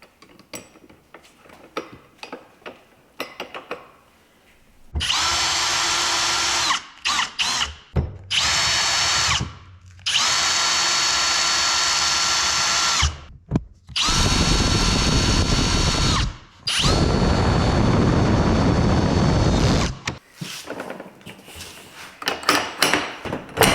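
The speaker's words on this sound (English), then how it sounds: "And let's put those screws back in." A power drill drives screws while an RV keyless entry door lock is installed: several loud sustained whirring bursts of a few seconds each, separated by short pauses and clicks, close up.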